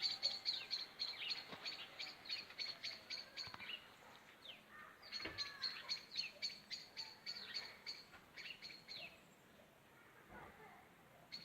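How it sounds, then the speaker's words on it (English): A small bird calls outdoors in a rapid run of high chirps that repeat in bursts, fairly faint and close with quiet gaps between phrases. "There's a wee bird in the sky."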